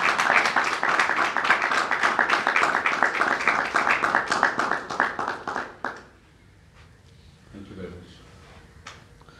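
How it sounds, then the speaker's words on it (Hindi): Church audience at an ecumenical unity-week prayer gathering claps in a sustained burst of applause for about six seconds, then it fades to quiet room noise with faint movement. "बहुत सारी तालियां बजाएगा जी।"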